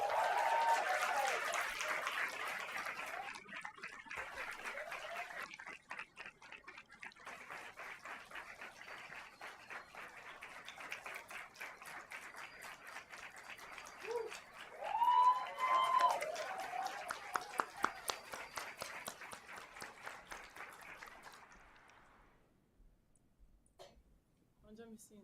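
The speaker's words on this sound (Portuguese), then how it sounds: "Com muita salva de palmas" Sustained audience applause at a Brazilian music panel event, dense clapping filling the room for about twenty seconds before tapering off, with a few louder bursts and some voices mixed in.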